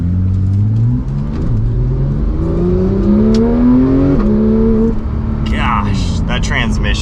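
A Porsche 911 GT3 of the 991.2 generation, rear-engined, accelerates hard on the road, its engine note climbing through rising harmonics with quick gear changes, loud and close from inside the cabin, and a short burst of other noise near the end.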